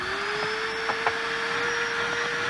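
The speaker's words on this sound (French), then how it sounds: "Je suppose qu'il y a un aspirateur quelque part par ici." Vacuum cleaner running with a steady high whine and whirring motor drone, close and continuous, with a couple of small knocks and no talk.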